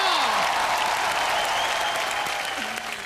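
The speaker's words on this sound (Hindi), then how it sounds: "जोरदार तालियां" Loud, sustained applause from a comedy show studio audience fills the room, steady throughout, with a few voices ringing out above it.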